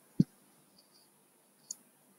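A mouse click sounds once, sharp and close, followed by a fainter second click in an otherwise quiet room, with no talk.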